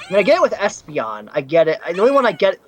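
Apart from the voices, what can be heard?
No distinct noise like a dog, phone or traffic.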